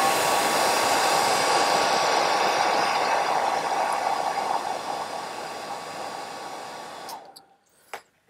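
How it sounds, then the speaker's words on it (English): A hairdryer blows steadily on the fibres of an Olive Sculpin fly being tied, a loud continuous rushing roar that fades toward the end and then cuts off, leaving brief faint clicks. "Now I'm just going to hit it with a hairdryer, I want the fibres to be sitting back here."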